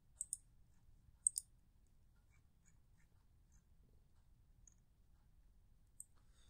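Computer mouse clicking, a couple of crisp double clicks near the start, another pair a second later and one more click near the end, faint and close in an otherwise quiet room.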